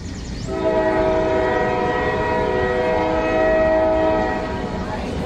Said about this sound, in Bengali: ট্রেনটা যখন স্টেশনে থামল তখন বেলা পড়ে এসেছে।